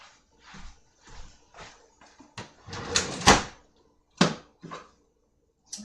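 A kitchen drawer is pulled open and rummaged through during home baking, with a series of close clattering knocks and shuffling bumps, some sharp and loud, separated by short pauses.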